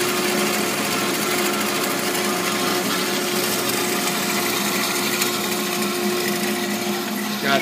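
A 1997 AMADA HA-250W automatic horizontal band saw cutting metal stock into one-inch pieces, giving a loud, continuous mechanical whine and hum with a steady tonal drone, close by and without pause.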